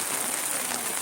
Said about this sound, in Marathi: आणि पाऊस छान पडायला.